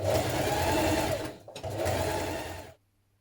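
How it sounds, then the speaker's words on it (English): A sewing machine stitching a seam on a pair of trousers, steady close motor whir with rapid needle rhythm, a brief pause at mid-point, then stitching resumes before stopping. "once we've stitched that seam we can edge finish that with either an overlock or a zigzag stitch"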